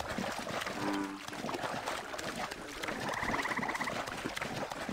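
Frog croaking in the game Assassin's Creed Origins, a short low croak near the start and a higher trilling call later, set against a busy wet ambience of water and rustling.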